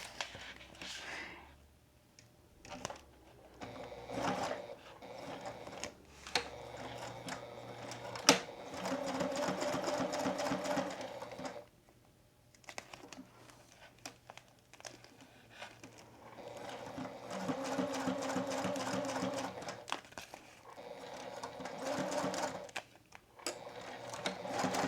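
Sewing machine stitching a raw edge to a folded edge of fabric, running in several long bursts of rapid, steady needle chatter separated by brief pauses, close and clear with no talking.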